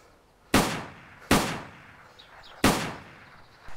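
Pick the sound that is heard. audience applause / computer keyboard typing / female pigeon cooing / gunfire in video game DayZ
gunfire in video game DayZ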